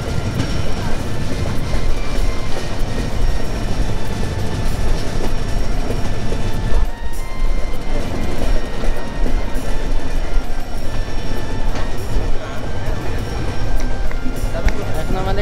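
The Rupsha Bangla Express rumbles loudly and continuously over the Madhumati rail bridge, with rushing wind and rattling wheels throughout. Nobody speaks.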